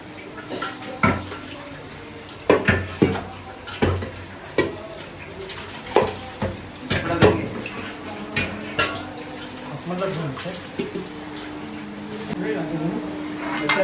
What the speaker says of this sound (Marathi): पातेला धुवून घेऊया